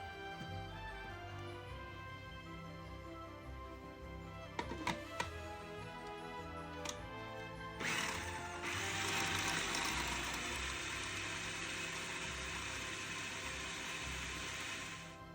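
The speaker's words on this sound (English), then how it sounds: "I'm going to puree them in the food processor until they're very finely chopped" Food processor pureeing drained dates, a steady loud whirring that starts partway through and runs continuously, with a few sharp clicks and scraping knocks beforehand.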